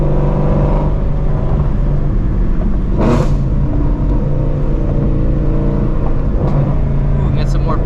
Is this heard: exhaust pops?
yes